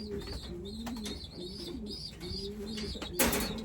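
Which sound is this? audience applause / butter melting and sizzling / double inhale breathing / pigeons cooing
pigeons cooing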